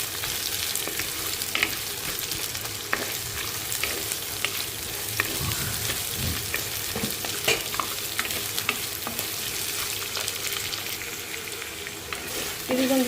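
Chopped carrots and onions fry in a pan, giving a loud, continuous close sizzle with steady stirring and occasional scrapes of a utensil against the pan.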